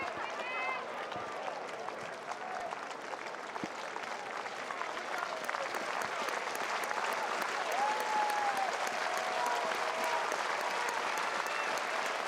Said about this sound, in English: The crowd's starting to get into it now.